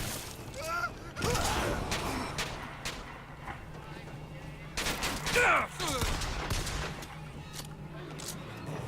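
Gunfire in the shooter game Bioshock Infinite: repeated shots and bursts crackle through the clip alongside game effects, with a player talking over much of the action.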